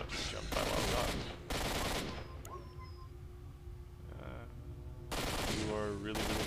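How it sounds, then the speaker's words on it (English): Gunfire in the game STALKER: Shadow of Chernobyl sounds as loud, dense bursts of rapid shots, broken by quieter gaps with faint game noises, then more bursts near the end. "Oh, and now he's shooting at me."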